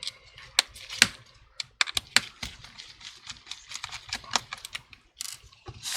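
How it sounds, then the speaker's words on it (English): A T8 screwdriver removes the LCD hinge screws from a MacBook Pro A2337, giving close, sharp little clicks and ratchety ticks in irregular clusters with brief pauses between them. "Remove the 3 screws, which is holding down the LCD screen."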